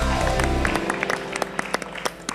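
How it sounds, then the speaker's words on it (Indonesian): Studio audience clapping at an Indonesian stand-up comedy roast show, a short burst of dense applause with sharp individual claps standing out as it tapers. "Tepuk tangan untuk Abang Billy Saputra."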